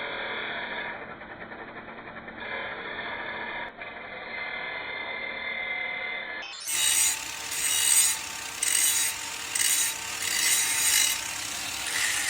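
The edges of a Subaru exhaust header being ground down, a muffled steady rubbing that gives way to brighter, harsher rasping in repeated rhythmic bursts, close and fairly loud.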